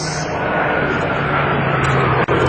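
An aircraft engine drones steadily and loudly during a barrel roll, holding a constant tone with a brief dip near the end.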